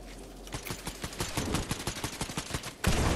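Rapid gunfire in a video game, a fast burst of many close, sharp shots in quick succession, followed by a heavier thump at the end.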